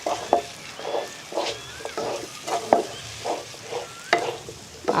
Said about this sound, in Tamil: கொஞ்சம் மல்லித்தலை கருவேப்பிலையை தூவிடலாம் தூவிட்டு கலந்துருவோம்